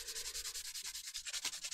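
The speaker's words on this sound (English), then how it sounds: "Paul, you need to put your grit on your sanding sticks." A sanding stick rubbed back and forth over a Warhammer model, quick rhythmic rasping strokes, about a dozen in under two seconds, close and steady with no voices.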